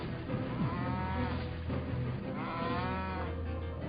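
Cattle moo in long, drawn-out lowing calls, two close and fairly loud moos over a continuous low background hum.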